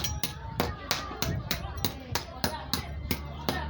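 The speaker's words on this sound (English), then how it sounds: "can you see the way I'm breaking the igneous rock into pieces?" A hand hammer strikes igneous rock again and again to break it into pieces while a stone surface is being roughened. There are about a dozen sharp, close, evenly spaced blows at a brisk steady rhythm.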